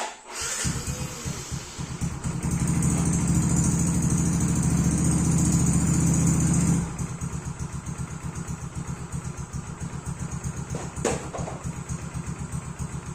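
A Yamaha X-Ride scooter engine, just fitted with a new Bosch battery, revs up into a loud, steady drone for several seconds. It then drops back to a fast, rattling idle with a brief click near the end.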